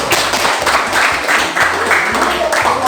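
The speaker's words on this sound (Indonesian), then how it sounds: "Wah, tepuk tangan dulu," Schoolchildren clapping their hands together in a classroom during a police traffic unit visit in Seruyan, a loud, close, rhythmic patter of many small hands with a low hum and faint voices underneath.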